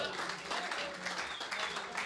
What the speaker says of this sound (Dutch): Geef ze een warme applaus aan Anouk Krachtwijk en Peter Vente.